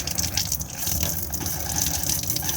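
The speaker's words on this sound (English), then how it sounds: "We need the water pump on so we can get water out of the taps" Caravan water pump running with water gushing and filling, a steady close rushing flow with a low mechanical hum beneath, no voices.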